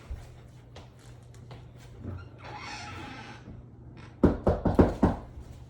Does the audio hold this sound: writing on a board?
no